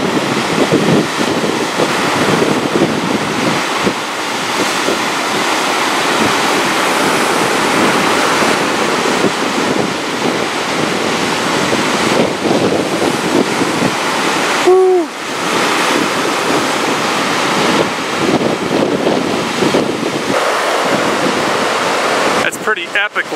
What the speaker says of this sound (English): I wish there was some way you guys could see how massive these waves are.